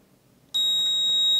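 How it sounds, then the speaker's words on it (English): An EMP alert detector sounds its alarm when triggered by a nearby handheld pulser: a sudden, loud, steady high-pitched electronic tone that starts abruptly and holds continuously to the end. "when I push the little pulser button, it sounds the alarm on the EMP alert"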